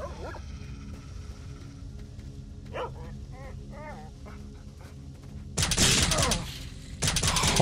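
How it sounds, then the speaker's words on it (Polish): A dog in STALKER: Shadow of Chernobyl gives a few short yelps and whines midway, then loud bursts of gunfire-like noise break in near the end over a low ambient drone. "Musimy unikać białego psa"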